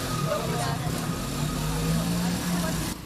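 A motorcycle struggles across a crater-riddled, pothole-damaged street in the Alto Nova Olinda neighborhood, its low engine drone running steadily under a talking voice.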